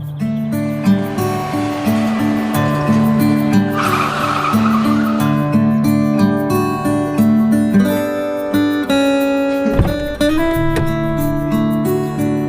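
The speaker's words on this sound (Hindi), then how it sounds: "फिर अहान उस गाड़ी में बैठा और ड्राइव करते हुए निकल गया।" Car engine and tires from a dramatized story scene, sustained and loud with squealing tone over layered music, the tone dropping sharply near the end as the car pulls away.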